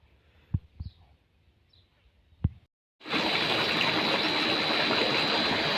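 A water pump motor irrigating fodder in a village field starts up after a few scattered knocks and a brief pause, then roars steadily as a broad, loud wash of rushing water and motor noise.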